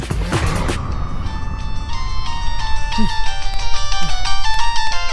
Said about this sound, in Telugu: ఏ వరుణ్, నీకు ఫోన్ అర్జెంట్.